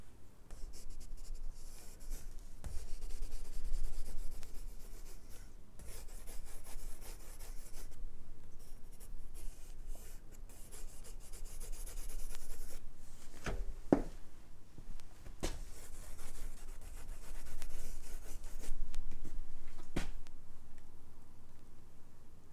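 A pencil moves across smooth paper for an album artwork drawing, giving a soft, continuous scratchy rubbing with occasional sharper strokes and taps, close and fairly quiet, with no voices.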